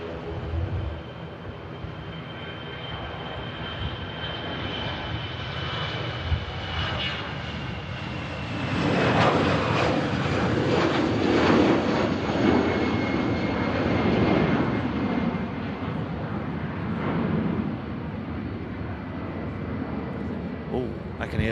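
An EasyJet airliner rolls for takeoff at Manchester Airport, its jet engines swelling from a distant roar to a louder, broad rush before easing away, with a voice talking in the background.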